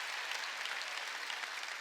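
A church congregation claps during a worship service sermon, a dense, even burst of many hands that holds steady, with no one talking over it.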